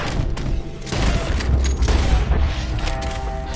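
Shootout gunfire in Red Dead Redemption 2, a burst of loud booming shots and rapid reports clustered close together, heavy low thumps with some mechanical clatter, no voices.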